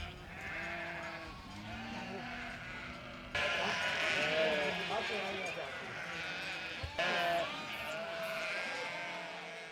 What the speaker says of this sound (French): le troupeau de moutons est apporté à la clôture déjà préparée à la ferme